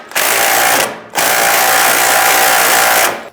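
A power tool snugs down the nut on a 2004-2009 Dodge Durango front sway bar link, whirring steadily in two bursts, the first short and the second about two seconds long, loud and close.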